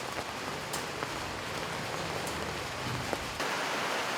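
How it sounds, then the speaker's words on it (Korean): Heavy rain pours down on an old, run-down house, a constant soft wash of drops heard from a distance, fairly quiet and unbroken, with a few sharper drips standing out and no voices. "빗줄기가 조금씩 거세지더니 금세 폭우로 변했다."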